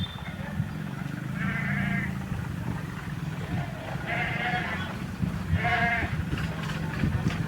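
Sheep bleating outdoors, three distinct wavering calls spaced a couple of seconds apart over a low rumbling background with faint voices.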